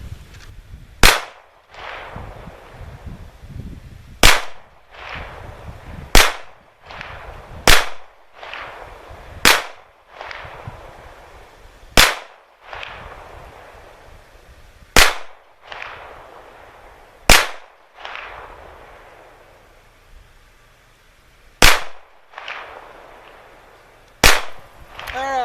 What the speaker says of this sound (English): Whether I was firing far away, firing slow, firing fast, didn't matter too much.